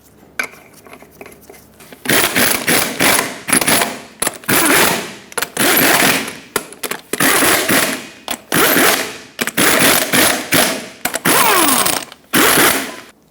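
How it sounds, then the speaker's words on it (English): A tool tightens the eight lug nuts on a 2000-2005 Ford Excursion wheel in a cross pattern, loud rattling bursts of ratcheting chatter coming one after another with short pauses between them. "Put on all 8 lug nuts. We'll bottom them out in a cross pattern to seat the wheel evenly."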